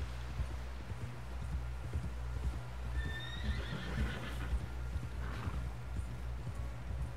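A horse in Red Dead Redemption 2 whinnies over a steady clip-clop of hooves, with the neigh rising in the middle and the hoofbeats continuing close by against a low rumbling game background.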